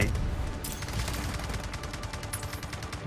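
Rapid bursts of automatic gunfire from the Delta Force Mobile shooter game, with sharp repeated shots crackling through a continuous, busy battle mix for about three seconds.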